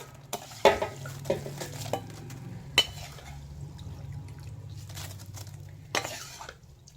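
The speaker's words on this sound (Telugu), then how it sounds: "ఇప్పుడు కలుపుకోవాలి మనం మంచిగా." Spoon stirring puffed rice snack with tempering in a pan, soft scraping and occasional sharp clanks against the metal over a low steady hum, sparse and moderately close, no speech.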